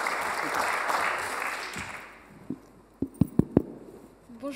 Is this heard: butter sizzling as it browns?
no